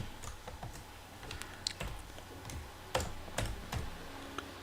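Computer keyboard typing while entering PHP AJAX code for a hospital management system, a steady run of light close key clicks with a few louder taps and no talk.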